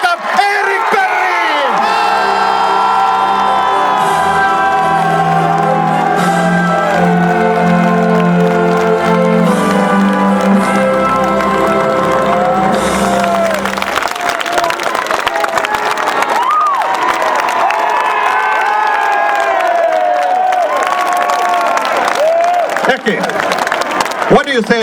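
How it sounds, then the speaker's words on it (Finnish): A large crowd at a championship celebration for the JYP team erupts in loud cheering, whoops and applause, with music and shouting voices mixed in and the roar sustained throughout. "Annetaan vielä Mikolle yhdet aplodit."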